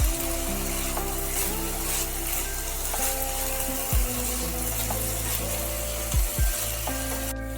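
Mixed vegetables sizzle steadily in a pan on a gas stove with the lid off, broken by a few low knocks and scrapes as they are stirred; the fizzing is close and even, and no one speaks.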